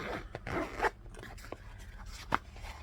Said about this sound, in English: But this front pocket zips